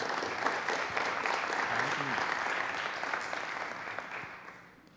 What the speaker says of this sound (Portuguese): Vamos receber com uma salva de palmas nosso palestrante.